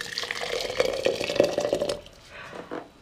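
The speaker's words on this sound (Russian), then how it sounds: "Ошпарю кипятком" Boiling water poured from a kettle into a ceramic teapot to scald it before brewing Kenyan black tea, a steady close splashing pour for about two seconds that then tapers off into softer trickles and drips.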